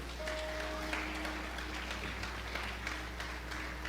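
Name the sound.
church congregation applauding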